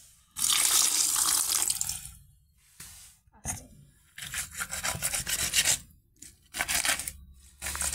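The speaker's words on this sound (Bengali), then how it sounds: "মাছগুলো এখন ধুয়ে নিই।" Fresh fish, including bata, are washed under running water at a kitchen sink, with bursts of gushing tap flow broken by pauses and rubbing, splashing handling, close and fairly quiet.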